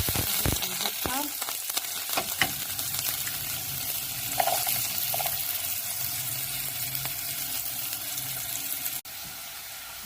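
Onion frying in olive oil sizzles steadily, with stirring clatter and bits of water-like splashing, ending in a sudden drop to a quieter hiss.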